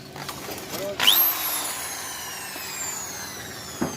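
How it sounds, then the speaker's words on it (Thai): A borrowed power drill revs up with a rising whine while drilling a hole for a simple mouse trap, then keeps spinning as the pitch slowly sinks, with a short knock near the end. "เดี๋ยวขอไปหาสว่านมาเจาะรูก่อนนะครับ"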